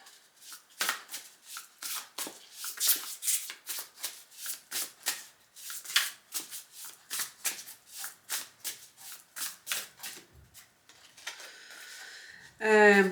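A deck of oracle cards is shuffled by hand at close range, giving a quick, steady run of soft riffling slaps and flutters, ending with a brief louder rustle.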